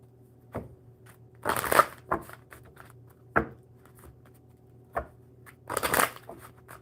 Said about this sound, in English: One more good shuffle for Vtoca.